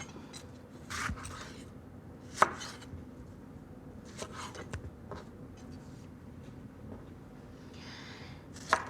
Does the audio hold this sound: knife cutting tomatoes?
yes